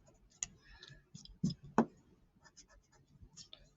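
A pencil drawing of a bat is erased with a rubber eraser on paper, giving faint, quick scratchy rubbing strokes in short irregular bursts against a quiet room.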